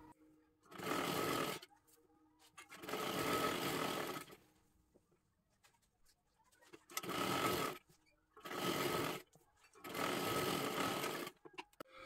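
A sewing machine stitches a blouse in five separate runs of rapid, steady whirring, each lasting one to two seconds, with quiet pauses between them and no voices.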